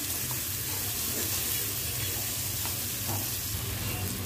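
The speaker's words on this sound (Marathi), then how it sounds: "आता गवार घातली ह्याच्यामध्ये, थोडं परतून घेते" Chopped cluster beans (guar) being sautéed in a pan for a prawn dish, a loud continuous sizzle with occasional soft stirring scrapes, close and unbroken.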